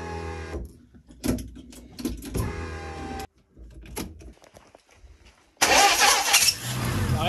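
An engine under restoration cranks and sputters in uneven bursts with short pauses, then catches and runs loudly with a rough, full roar near the end.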